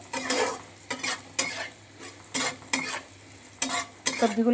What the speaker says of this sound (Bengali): এবার হলুদটা দিয়ে আবার খানিকক্ষণ একটুখানি ভেজে নেব সবজিগুলো